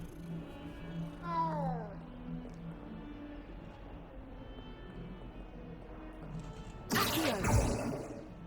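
A cat meows in the video game Hogwarts Legacy. There is one clear rising-and-falling meow near the start, then a louder, brighter burst of sound near the end, heard over a steady game ambience.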